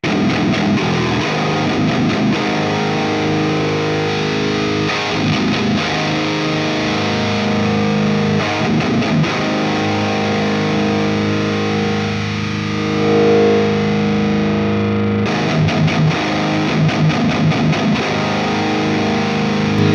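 A distorted eight-string electric guitar with a 500 Hz midrange boost plays heavy, low, chugging riffs. Sustained chords ring between the palm-muted bursts, dense and loud without any voice.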